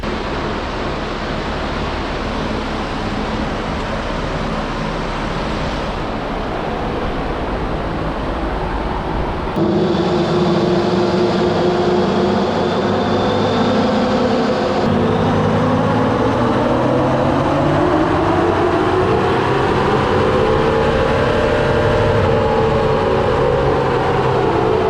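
A diesel Jeep Wrangler with the EcoDiesel engine on 37-inch tires roars on a chassis dyno, a dense, steady mechanical drone whose pitch climbs and sweeps as the run builds, heard alone without talk.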